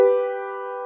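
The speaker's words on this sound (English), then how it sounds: "And here's another harmonic third." A harmonic third on piano, two notes struck at once, rings briefly and clearly at close range before being cut short.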